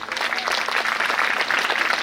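An audience applauds after a speech at a religious discourse by a swamiji of a math, with steady, dense clapping that holds fairly loud for the whole stretch and some faint voices underneath.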